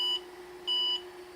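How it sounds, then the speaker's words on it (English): A repaired vintage computer gives two short electronic beeps, a brief tone followed by a slightly longer one, clear and close over a steady low hum. "We also got some beeping happening."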